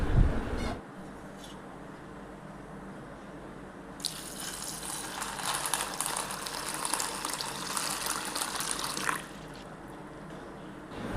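Water runs steadily, then a louder gushing pour splashes into a bowl of white chickpeas for several seconds before easing back to a softer trickle.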